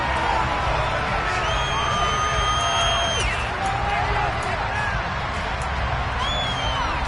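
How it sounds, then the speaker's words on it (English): A large football stadium crowd at an NFL game between the Colts and Texans keeps up a loud, steady roar of shouting and cheering throughout, with commentary voices over it. "Shouts from this crowd as they watch the replay."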